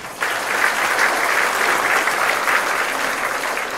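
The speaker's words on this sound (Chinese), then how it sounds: "我们给他掌声好吗？" An audience at a civil service awards ceremony bursts into sustained applause, a loud, dense wash of clapping starting abruptly and continuing steadily to the end.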